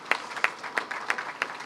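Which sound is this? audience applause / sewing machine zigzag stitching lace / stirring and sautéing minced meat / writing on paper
audience applause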